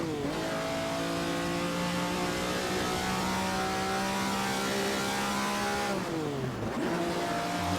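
Ferrari 250 GTO engine drones steadily in a racing simulator, then its pitch drops and climbs again as the car shifts gear, loud and continuous.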